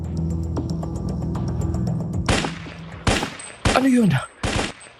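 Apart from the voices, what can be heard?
enemy gunfire sound effect in a story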